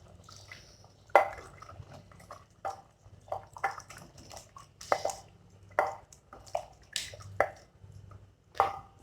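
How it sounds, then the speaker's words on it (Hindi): Mutton and green coriander being stirred in a cooking pot for matka gosht: sharp, irregular spoon clinks and scrapes against the vessel, close and clear, with soft wet movement between strikes. "अभी हम इसमें हरा धनिया ऐड करेंगे 2 टेबलस्पून। अच्छी तरह मिक्स करेंगे।"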